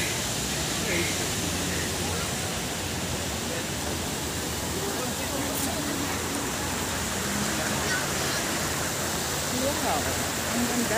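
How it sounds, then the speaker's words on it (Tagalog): Water flows in a man-made water feature at Hong Kong Park, a continuous, even rushing that fills the whole scene at steady volume. "ganda naman ng water na yan, dumadaloy."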